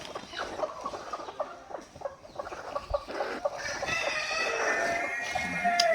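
Free-range chickens scratch about a rubbish heap, their steady clucks and calls close by, while a rooster crows loudly and at length near the end.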